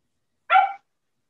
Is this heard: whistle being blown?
no